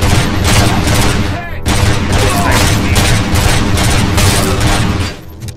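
Sustained bursts of gunfire from RoboCop Rogue City, rapid and loud, nearly continuous with one short pause, then tapering off at the end.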